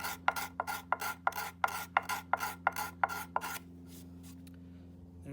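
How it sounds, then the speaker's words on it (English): Coarse 60 or 80 grit sandpaper rasps back and forth across a large hand-carved wooden spoon in about ten quick, regular strokes, close and clear, before the rubbing stops and only a low background hum remains. "We can start with a 60 or 80 grit on the sandpaper and remove a lot of wood quickly."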